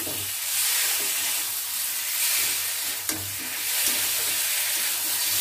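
Boiled potatoes stirred into sizzling spice masala in a pan give a loud, continuous frying hiss, with soft scraping stirs and one sharp knock partway through.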